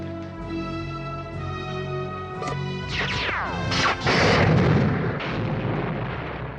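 Space-station laser blasts from the 1979 film Moonraker: sharp zapping bursts, then sweeping, descending electronic tones and a crackling, explosive wash, loud and close with no talk.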